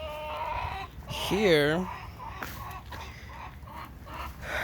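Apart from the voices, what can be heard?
chickens clucking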